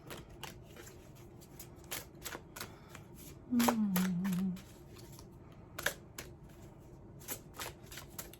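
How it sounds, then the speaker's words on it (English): A deck of tarot cards is shuffled over and over in soft, quick riffles and taps. The sound is close but faint, and a voice briefly cuts in. "I felt pulled to this deck, and now I'm just sitting here shuffling it"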